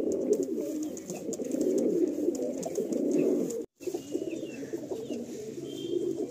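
A pair of Malbai pigeons being handled and released, their low cooing and ruffling a continuous close hum with a brief dropout before the calls resume, no speech over them.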